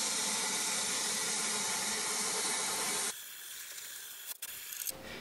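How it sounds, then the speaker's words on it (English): A continuous hissing spray of wax oil from a nozzle into a vehicle's box sections and seals runs for about three seconds, then cuts off, leaving quieter rustling and a few soft handling noises. "I'm just literally spraying wax oil into all the box section and the inside the seals."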